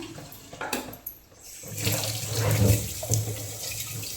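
Water runs from a tap into a vessel, the splashing stream rising and falling and swelling louder toward the middle.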